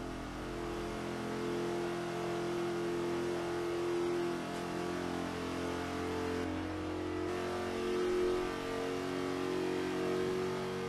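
A Chevy Nova C500 race car in Forza Motorsport 5 laps the banked Indianapolis GP circuit, its mid-pitched engine droning steadily at high revs, close and loud, with only slight swells in pitch.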